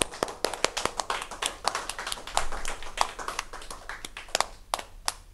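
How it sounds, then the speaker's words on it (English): Students at a school leaders' investiture clap in a sparse, uneven round, with distinct individual hand claps spread irregularly over several seconds rather than a full roar, and little talk. "Can I first of all hear a thunderous round of applause for all the student leaders from all the classrooms?"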